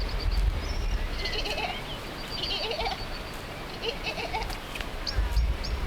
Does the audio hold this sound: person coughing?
no